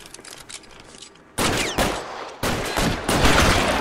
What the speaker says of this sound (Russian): Блин, фига тут перестрелка